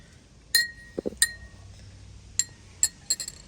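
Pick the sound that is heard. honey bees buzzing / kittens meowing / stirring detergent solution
stirring detergent solution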